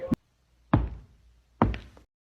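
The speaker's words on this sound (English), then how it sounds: "Red runs to the door and knocks 3 times." Three knocks on a door during a school stage play of Little Red Riding Hood: a short rap, then two heavier, resonant knocks spaced under a second apart, close and alone.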